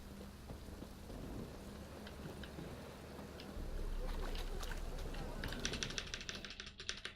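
Steady rain with rolling thunder in The Witcher 3, a continuous wash that swells louder midway, with sharper crackling patter near the end and faint talk underneath.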